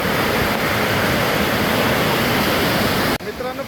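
Amboli waterfall pours in a loud, dense, continuous roar of falling water close by, cutting off abruptly near the end to a quieter wash.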